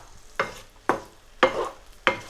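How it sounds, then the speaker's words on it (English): Frozen green peas fry in a pan over medium-high heat, with four evenly spaced bursts of scraping and sizzling as they are stirred, close and moderately loud. "I've turned on the heat setting to medium high because green peas are frozen and I need to fry them."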